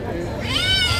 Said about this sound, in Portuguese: Vamos levar o gato aqui, ó.